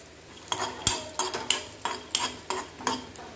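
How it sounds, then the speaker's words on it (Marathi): A spoon scrapes and stirs peanuts dry-roasting in a kadhai over a low gas flame, making a steady series of close, crisp scraping strokes with light rattling of nuts against the metal pan, with no one speaking. "शेंगदाणे कमी गॅसवर भाजायचे"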